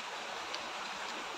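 River water flows in a steady, dense rush, close and even throughout, with no voices over it.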